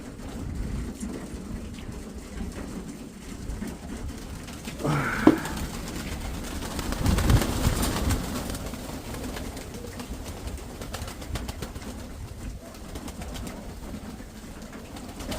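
Soft pigeon cooing sits under steady wind rumble outdoors in a village, with a sharp knock midway and a gust swelling shortly after.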